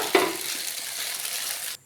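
Green onion tops sizzle loudly as they hit a hot frying pan for rainbow penne pasta, a sharp burst of frying that settles into a steady crackling hiss before cutting off abruptly.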